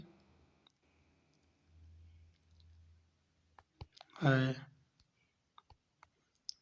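Computer mouse clicks while working in a Facebook Marketplace course, several crisp close clicks spread out with quiet gaps, plus a brief voiced sound in the middle.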